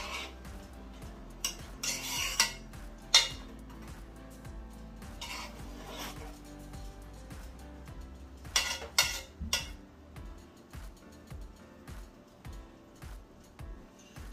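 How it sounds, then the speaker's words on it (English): Rice and mackerel cooked Jamaican style get stirred in a pot, with quiet scraping and intermittent sharp clinks of a utensil against the metal sides spread over a low background. "I'm just going to stir it around."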